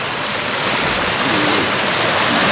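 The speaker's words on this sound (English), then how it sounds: "That little waterfall there." A small waterfall beside a walking path, a continuous loud hiss and rush of falling water heard close up, steady and unbroken with no voices.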